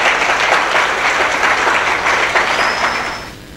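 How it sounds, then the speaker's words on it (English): A crowd applauds loudly and steadily with dense clapping, then the sound fades toward the end. "a round of applause, ladies and gentlemen."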